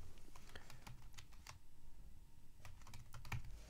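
Typing on a computer keyboard, a steady run of soft, close key clicks in irregular bursts with a slightly louder tap near the end, no voices.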